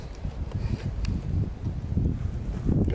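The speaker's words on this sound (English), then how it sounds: "It's really windy." Strong wind gusts buffet the microphone outdoors at Chattahoochee Bend State Park in a constant, rumbling roar, with no voices.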